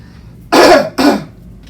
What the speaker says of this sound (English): I clear my throat in the mic all the time